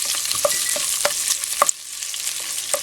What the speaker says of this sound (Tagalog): Okay, i-fry lang natin ng konti dito sa cooking oil.